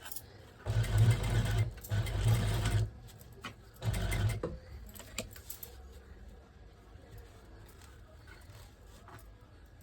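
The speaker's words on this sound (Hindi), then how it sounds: "देखिए सिर्फ 2 सिलाई लगा लेते हैं ताकि ये सेट हो जाए अच्छे से" Sewing machine stitching fabric while making a lotus seat cushion (kamal aasan), running in three bursts of steady whirring, close and fairly loud, then stopping to quieter handling sounds.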